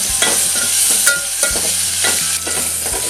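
Tomatoes fry in a pan with a continuous loud sizzle, while a spoon scrapes and stirs through them in a few repeated strokes, close up and with no talking.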